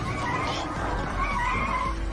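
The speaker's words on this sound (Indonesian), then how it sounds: "pengemudi melaju lurus ke depan" A car in a film scene drives straight ahead and skids, a steady loud tire screech over engine rumble lasting throughout, with no talking.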